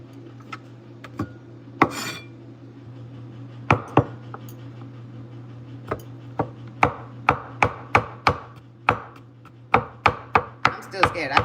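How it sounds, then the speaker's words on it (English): A knife chops garlic on a cutting board with sharp knocks, first a few sparse strikes, then a quickening run of evenly spaced chops, close and alone over a low background hum. "let's see how my chopping garlic skills are with this knife"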